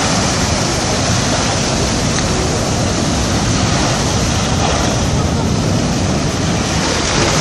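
Ocean waves surge and break against a harbour jetty at Port Est, Réunion, producing a steady, loud wash of surf mixed with wind rumble that runs without pause from start to finish, with no voices.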